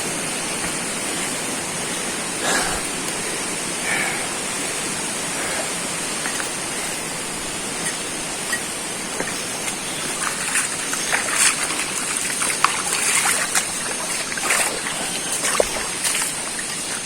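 Spring water flows steadily from a natural source in a rural spot in General Nakar, Quezon, a continuous soft rushing trickle throughout with no talk.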